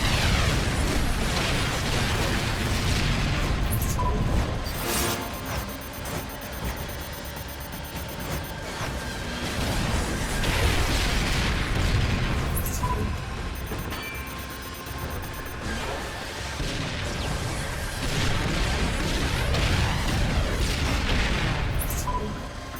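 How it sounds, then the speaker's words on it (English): Rockets exploding in the Split/Second racing video game make a dense, continuous roar of overlapping blasts and booms that stays loud throughout, with no gaps between detonations. "That is a lot of rockets."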